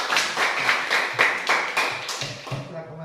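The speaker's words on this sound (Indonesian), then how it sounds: "tepuk tangan dulu untuk Adriel" A group claps for a student named Adriel in a classroom or school assembly, a short run of uneven, rhythmic claps lasting about three seconds, with some voices mixed in.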